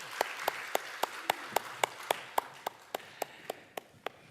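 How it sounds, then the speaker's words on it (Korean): Church congregation at a Korean Sunday worship service claps in slow, even unison, about fifteen evenly spaced sharp claps against a quiet background. "하나님 앞에 영광의 박수 올려드리겠습니다."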